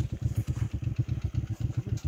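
A motorcycle engine runs steadily in the desert at night, its low, pulsing thrum beating in a fast, even rhythm throughout, close and fairly loud, with no talk over it.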